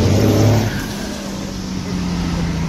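A 12-valve diesel engine in a truck swapped to a 48RE transmission revs loudly up close, a strong rising burst falling back to a steady rumbling idle, with no speech over it.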